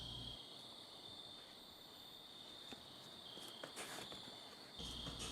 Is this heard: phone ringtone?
no